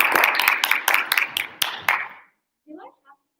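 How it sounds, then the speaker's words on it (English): A small group clapping in a classroom-style session, a short burst of scattered claps that thins to a few last ones and stops, followed by a brief quiet voice. "Clap, clap, clap."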